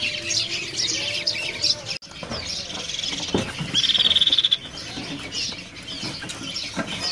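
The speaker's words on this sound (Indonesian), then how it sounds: "Di sini ada burung ciciung bintang ya." Chirps and tweets from caged birds at a bird-selling kiosk, including an oriental magpie-robin, with short bright calls and a sustained trill amid rustling and market background noise.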